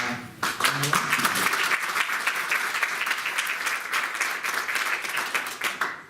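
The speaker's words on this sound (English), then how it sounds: "round of applause" Audience applause at a conference talk on the Elm programming language: dense, steady clapping from a crowd that begins abruptly and holds across several seconds before tapering slightly.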